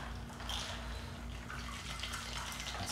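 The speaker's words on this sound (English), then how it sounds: "And then we're going to pour this into cocktail glasses." A daiquiri is poured from a shaker into cocktail glasses, giving a soft, continuous liquid trickle and splash at close range with no talking.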